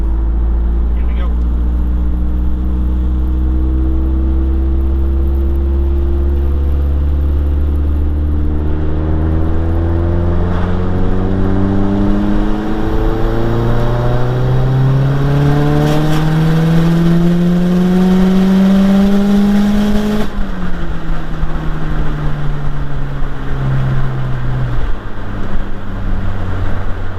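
A Mazdaspeed 3 with a big turbo running 25 PSI pulls hard through the gears from inside the cabin, engine pitch climbing steadily with drops at each shift, then easing off into deceleration; loud and continuous.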